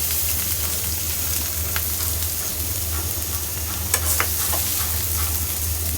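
Bitter gourd fries in a pan with a loud, steady, close hiss and crackle, with a low hum underneath and a few small scraping taps near the end.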